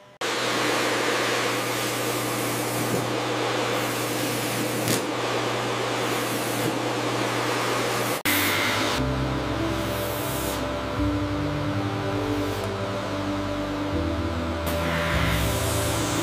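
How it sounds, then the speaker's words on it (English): A specialized vacuum system collecting wool from an angora rabbit gives a steady, loud suction roar throughout, with a few brief shifts in pitch and airflow as the nozzle moves. "This specialized vacuum system allows us to gently collect the wool without stressing the animal."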